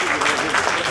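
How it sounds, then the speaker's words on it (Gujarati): An audience at a formal business gathering breaks into steady, dense applause that fills the short moment at close range. "પ્રમુખ શ્રી લાખાભાઈ એમ કેશવાલા, તાળીઓ આપી લેજો તમામ."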